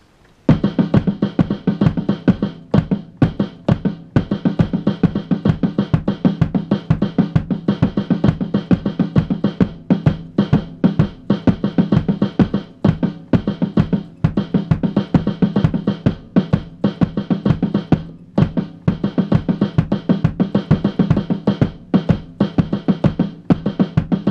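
Rapid, steady one-handed drum strokes played continuously in a triplet timing exercise, close and loud, with no voices throughout.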